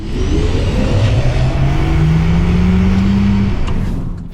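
A Maserati GranCabrio Folgore electric convertible plays its synthetic driving sound, blending traditional V8 character with electric motor whine: a loud, close rising tone sweeps upward as the car accelerates, then fades out at the end.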